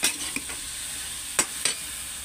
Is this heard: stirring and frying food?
yes